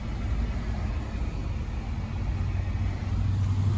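A truck engine idles with a steady low rumble close by, holding an even drone throughout with no speech over it.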